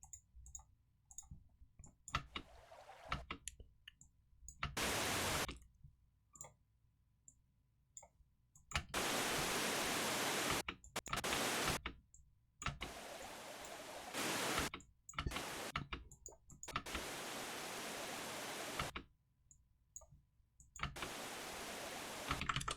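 A bubbly, creek-like running-water sound effect plays in loud blocks that start and stop abruptly, separated by quiet gaps with scattered mouse-like clicks.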